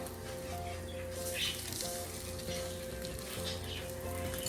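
Food frying in a hot pan, seared and flipped, with a steady close sizzle and crackle that swells briefly as pieces are turned, with no talk.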